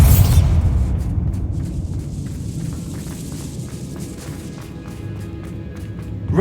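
A Bombarda spell explosion in the Hogwarts Legacy video game bursts as a loud, deep boom at the start, then a long rumbling decay fades away with faint crackling debris.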